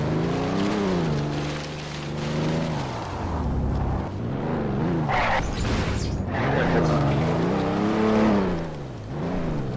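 A car drives through Garry's Mod, its engine note climbing and dropping through several gear shifts, loud and continuous, with people talking over it.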